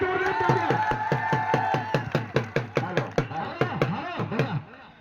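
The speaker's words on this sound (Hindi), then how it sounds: "ये ताली है" A crowd at a wrestling bout claps in a steady rhythmic beat, about twenty sharp claps in a row, loud and close, with murmuring voices underneath that fade as the clapping stops.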